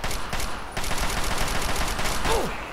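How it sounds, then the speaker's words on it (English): Gunfire in the game Fallout 3, heard as rapid bursts of automatic shots in fairly loud clusters during combat, with a brief voice-like sound near the end. "Ow, stop shooting at me."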